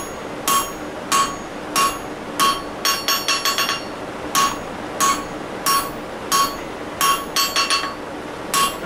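A hammer repeatedly strikes hot steel on an anvil to draw the tang of a woodturning hollowing tool down to round. The ringing, metallic blows fall in irregular clusters, some single and some in quick runs, close and loud.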